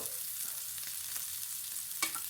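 Scallops searing in a hot pan give a steady, close hiss of frying, with a brief stir or scrape near the end and no talk.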